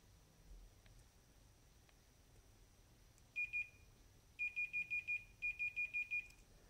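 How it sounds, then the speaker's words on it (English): Continuity beeps from a multimeter testing a thermal cutoff fuse in a desk fan: two short beeps, then two quick runs of five sharp, clear electronic beeps close by, over faint room hiss. "take the multimeter you have to check it for continuity."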